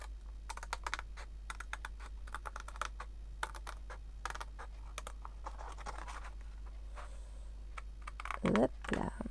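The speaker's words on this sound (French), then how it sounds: "avec mes ciseaux, je viens découper" Scissors snip through embossed card paper in a crafting session, a series of close, crisp crunching cuts with short pauses between strokes and a faint background hum.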